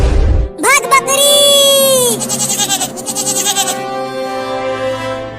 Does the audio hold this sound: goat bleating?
yes